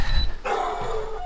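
A protective dog gives a short bark outdoors in the morning, followed by a burst of higher yipping, close by and fairly loud over a low background rumble.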